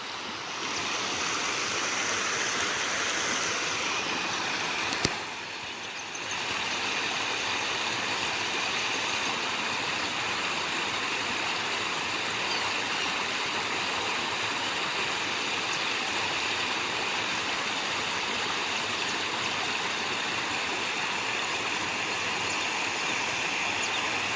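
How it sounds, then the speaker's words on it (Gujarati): Heavy rain pours on the village of Suraii while runoff flows and ponds brim full: a dense, steady rushing wash of water that dips briefly once before resuming, with no talking. "અમારા તો આજે વરસાદ જોરદાર આવ્યો છે બધા તળાવડા ફૂલ થઈ ગયા"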